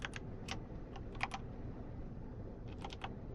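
Clusters of crisp keystrokes on a faulty computer keyboard, typed in short bursts with pauses between, close and fairly quiet over a steady room hum.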